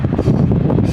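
Wind buffets the microphone at sea on a fishing boat, a loud, gusty rumble filling a brief moment with no voices.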